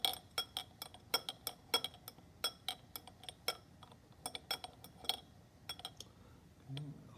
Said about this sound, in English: I can still stir, but there's more and more solid naphthalene in the test tube